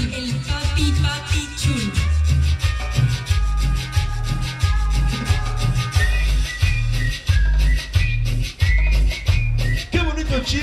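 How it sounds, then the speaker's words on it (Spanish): Whistling rides along a steady, loud cumbia beat at a sonido dance event in Huejotzingo, Puebla, the melody bright and continuous over thumping bass for the whole stretch. "Qué bonito chiflas"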